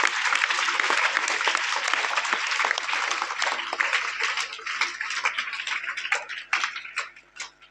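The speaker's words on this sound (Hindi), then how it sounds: "एक बार आप जोरदार तालियां अपने लिए बच्चों।" Loud, sustained applause from an audience of children at a school motivational seminar, dense clapping that fills the room and then thins out and fades toward the end.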